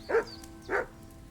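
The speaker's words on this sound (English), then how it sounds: "Why is it barking so much?" Two short barks from a dog in the medieval video game Kingdom Come: Deliverance 2, close and fairly loud, spaced about half a second apart with a quiet game background between them.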